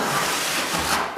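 A tool scrapes thin floor compound across a subfloor, a short, close, steady rasping rub lasting about a second.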